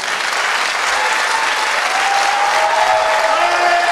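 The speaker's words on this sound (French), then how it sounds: "je vous demande d'applaudir" Sustained applause from an audience at an awards ceremony, honoring nine residents and their educator; dense, steady clapping fills the whole stretch with a few faint voices or whistles in the background.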